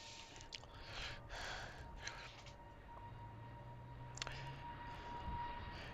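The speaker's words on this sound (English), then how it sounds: "It's heading off down the runway at a great rate of knots." Airliner accelerating down a Heathrow runway on its takeoff roll: a steady, distant engine roar with broadband rushing noise, continuous and moderately loud throughout, with no talking.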